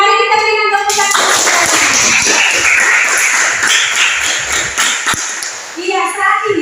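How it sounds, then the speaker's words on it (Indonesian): A classroom of students claps together, a dense burst of applause lasting several seconds, loud and close, with a voice and tonal sounds briefly heard before and after. "Mari kita berikan tepuk tangan."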